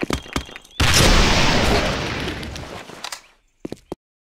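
A thrown grenade explodes in a shooter video game: a loud, close blast erupts and decays over a couple of seconds, bracketed by sharp bursts of gunfire before and a few quick shots after.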